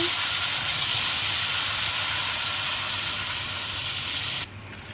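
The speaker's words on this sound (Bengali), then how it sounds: "কষানো হয়ে গেছে, পানি দিয়ে দেবো।" Steady loud hissing sizzle of water hitting a hot pan of sautéed ridge gourd and potato, continuing without break for most of the clip before dropping suddenly near the end.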